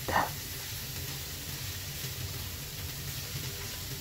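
Chicken gizzards added to a pan of browned garlic, onion and ginger, making a faint, steady sizzle after a brief clink at the start.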